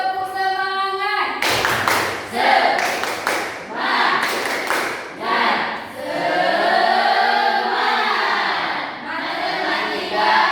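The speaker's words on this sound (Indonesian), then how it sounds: "coba semangat dulu, tepuk semangat" A classroom of students does a rhythmic spirit clap, with sharp bursts of hands clapping in short patterned sets. Chanting voices sing and call out between and over the claps.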